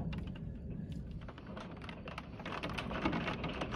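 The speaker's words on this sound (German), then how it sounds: "jetzt hat der Regen leicht eingesetzt" Light rain begins falling during a heavy thunderstorm near the Transalpina road toward the Hungarian border, a steady dense patter of drops on a surface with a low rumbling background, no voices.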